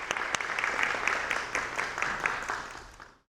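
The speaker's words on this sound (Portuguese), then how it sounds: "com as palmas da plateia" Audience clapping greets presenter Afonso Borges and guest Hugo Monteiro Ferreira as they walk onstage at a Sempre um Papo talk event, a steady dense ovation lasting about three seconds before fading out.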